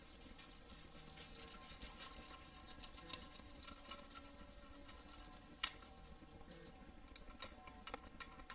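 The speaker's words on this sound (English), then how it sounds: "that compound will come out with the nylon brush" A nylon brush scrubs caked polishing compound off a natural stone surface, making a quiet, busy bristly rasping with scattered small ticks and taps throughout.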